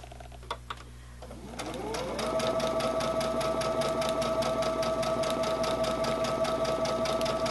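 Sewing machine stitching fabric for quilt piecing at a quarter-inch seam, starting with a few light clicks, then running into a steady, fast mechanical whir that holds close and even to the end.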